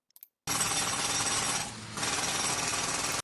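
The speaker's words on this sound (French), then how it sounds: "ça c'est le même son que le marteau-piqueur" A recorded jackhammer plays as a loud, dense hammering roar, breaking off briefly in the middle before resuming at full strength, with a few faint clicks just before it starts.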